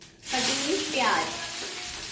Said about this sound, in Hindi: अब हम डाल देंगे इसमें कटी हुई प्याज